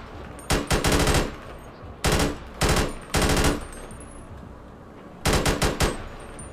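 Micro SMG fire from a video game gun sound mod, four short rapid full-auto bursts, loud and close, separated by brief silences.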